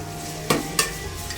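Onions frying in oil for beresta, a steady sizzle with two sharp stirring scrapes of a spatula against the pan.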